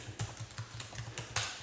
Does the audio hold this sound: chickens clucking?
no